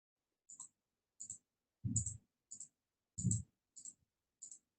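Computer mouse clicks while signing a document online, about seven sharp clicks at a steady pace of roughly one every half second to one second, some louder and fuller than others, close and alone in a quiet room.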